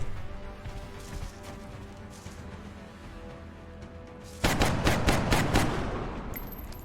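Gunfire in the XCOM Long War video game breaks out after a quiet stretch of ambient game sound, a rapid run of loud, close automatic shots and bursts filling the last few seconds.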